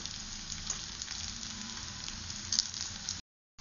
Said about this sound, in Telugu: ఇప్పుడు మళ్ళీ వీటిని ఇంకొకసారి ఫ్రై చేసుకోవాలి